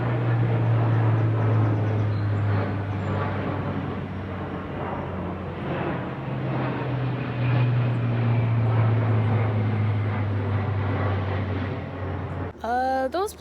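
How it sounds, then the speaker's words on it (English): Low-flying propeller airplanes pass overhead near a rural homestead, a loud, sustained engine drone that swells and recedes across the stretch, ending with a brief clatter of other noise. "Those planes were pretty low to the ground."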